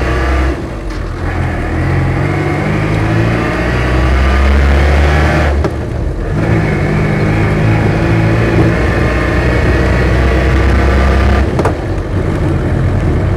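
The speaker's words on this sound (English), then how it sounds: "Beautifully set up diesel engine on this one actually." A Land Rover Series III diesel hardtop driving off, its engine droning loud and close with a low rumble, rising through revs with short dips at gear changes.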